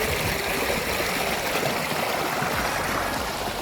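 A stream flows into a canal on a hillside near the Thottikallu waterfalls, making a continuous close rushing and gurgling with no other sounds on top.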